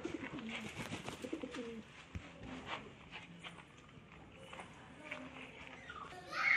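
Large pigeons cooing while being handled during a butox bath, soft repeated coos mixed with rustling and handling noise, with faint voices in the background.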